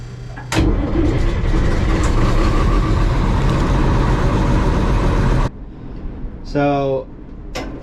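The engine of a John Deere 6600 combine that will not start cranks over loudly and close for about five seconds without catching, then cuts off, and a brief voice follows.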